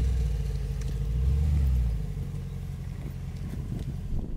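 A Mercedes G-Wagon SUV makes a three-point turn, its engine a low, steady rumble that swells briefly and then settles back to a quieter idle-like drone.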